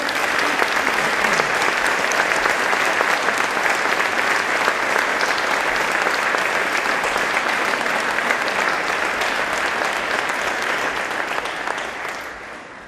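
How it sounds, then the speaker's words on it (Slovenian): After a concert by a music school's orchestras and vocal group, a large audience breaks into loud, sustained applause, many hands clapping densely and evenly before the sound starts to thin and fade near the end. "namenimo jim en močan aplavz"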